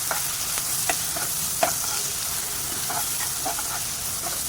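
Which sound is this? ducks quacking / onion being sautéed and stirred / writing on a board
onion being sautéed and stirred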